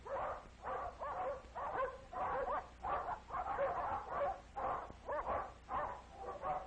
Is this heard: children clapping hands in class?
no